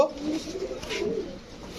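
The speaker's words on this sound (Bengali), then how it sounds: "এই 2 জোড়া কবুতর কোনো ভাই বন্ধুর যদি পছন্দ হয়ে থাকে" Pigeons, a pair of Maxi racers and a pair of red checkers, give soft, throaty coos close by in one short, murmuring stretch.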